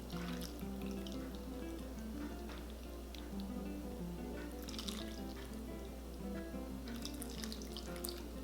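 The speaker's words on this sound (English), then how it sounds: "Pour in the soup" Soup pours into a bowl of red braised beef noodles, a steady liquid splashing and trickling with small drips, close and quiet over faint background hum, with no talk.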